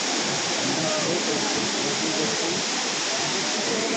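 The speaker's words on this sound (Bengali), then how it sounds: "বন্যার স্রোত" Floodwater from a breached embankment of the Mundeshwari river surges past in a steady, loud, broadband roar with no pauses, like a waterfall, and faint voices sound beneath it.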